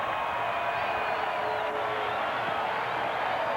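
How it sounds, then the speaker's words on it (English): A baseball stadium crowd during a 1994 Braves–Padres game gives scattered, half-hearted applause and murmuring, a steady wash of distant crowd noise with no sharp peaks. "A little sarcastic applause here"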